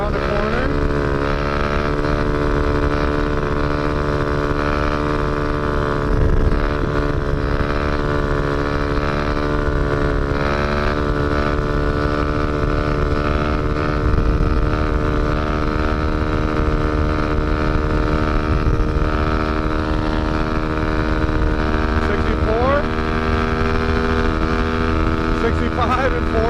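A motorcycle held in fourth gear on one wheel at around 63 mph: a loud, steady engine drone with a smooth hum that barely changes pitch throughout, heard close up.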